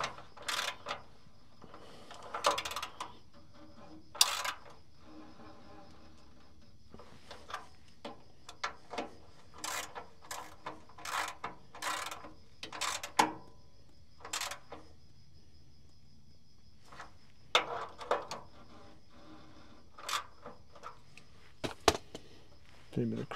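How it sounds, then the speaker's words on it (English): A ratchet clicks in short bursts, tightening the bottom bolts on a Bedford 4x4 army-style fire truck, with quick rattling strokes separated by pauses in a quiet workshop. "Just going to tighten up these bolts on the bottom."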